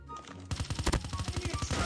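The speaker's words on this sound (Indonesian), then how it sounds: "Shotgun dia." Shotgun fire in Call of Duty Mobile, a quick rhythmic string of punchy booming shots that starts abruptly and keeps going, close and loud, with no talking.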